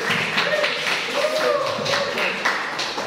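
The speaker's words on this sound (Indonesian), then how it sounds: "Aplaus ya" Applause from a civics class in session, a steady wash of many hands clapping at moderate volume throughout, with voices mixed in.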